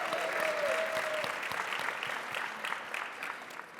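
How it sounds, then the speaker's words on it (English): An audience claps steadily, a dense patter of applause that slowly tapers off. "give the entire panel a round of applause again."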